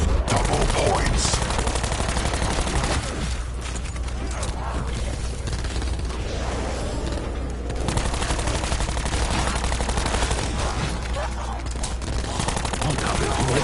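Automatic and rapid gunfire in Call of Duty Black Ops 4 Zombies, a dense continuous barrage of shots with game effects layered throughout, loud and steady across the whole stretch.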